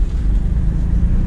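A car engine hums at a low, steady idle-like rumble as the learner driver in a driving-school lesson presses the accelerator, close and continuous with no clear rise in pitch over the short stretch.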